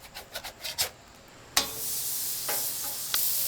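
A burger patty sizzles on a griddle, a bright, hissing fry that swells suddenly midway and keeps going, with a few scraping, rubbing touches of a utensil before it.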